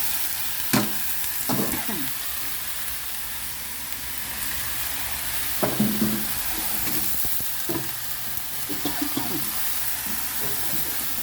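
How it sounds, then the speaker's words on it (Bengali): Mixed vegetables, including cauliflower, hit hot spice masala with a loud, continuous hiss of frying, broken by occasional scrapes and knocks of stirring against the pan. "এখন এই মশলার ভিতরে আমি সবজিগুলো ঢেলে দিচ্ছি।"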